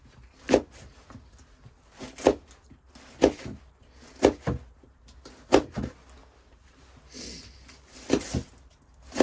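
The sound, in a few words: knife chopping an onion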